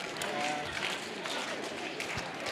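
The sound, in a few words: audience clapping and snapping fingers in a game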